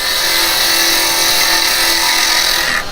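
A woodturning gouge making gentle bevel-riding cuts on a spinning piece on a lathe for a wig stand, a steady loud continuous whirring hiss of cutting that holds evenly throughout, close up and with no speech.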